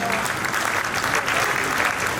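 An audience at a Durga Puja festival gathering applauds a poetry recitation with dense, steady clapping. The sound holds at an even, fairly loud level throughout the short stretch.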